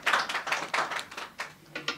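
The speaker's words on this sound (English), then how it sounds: "Clap for it." A class claps in a live lesson, a loose run of uneven hand claps in quick bursts, moderately close and fairly soft, with no talk.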